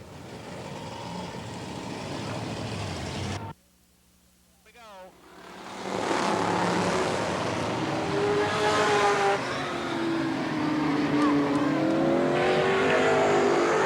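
Race cars roaring around Eugene Speedway during the B main event in 1990, loud steady engine drone with passing swells after a brief dropout, commentary running over the noise.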